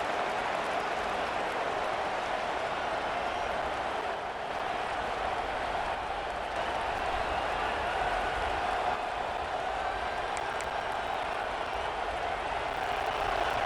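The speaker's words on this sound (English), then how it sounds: "Listen to this crowd just shaking the girders of this place, trying to help their defense." A vast stadium crowd in the video game EA Sports College Football 26 roars in a dense, unbroken wall of noise, loud and steady for the whole stretch.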